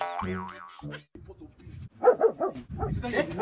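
A dog barks and whimpers in short yelping bursts, close by and fairly loud, mixed in with people talking.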